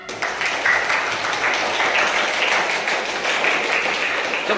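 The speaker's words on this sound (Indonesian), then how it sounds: "Tepuk tangan." School students clap their hands in a classroom, a dense burst of applause that stays loud and steady throughout.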